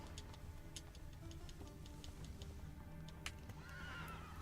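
Roach the horse in the video game Witcher 3 trots with a steady run of clip-clopping hoofbeats, then gives a close, clear whinny near the end. Nobody speaks.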